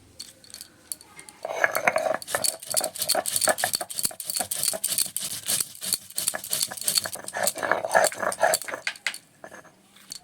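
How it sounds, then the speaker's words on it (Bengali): Whole cumin ground on a stone slab (shil-nora), a rapid, rhythmic run of gritty scraping and knocking strokes close by, continuing steadily with no voices. "এবার আমি বেটে নেব গোটা জিরে"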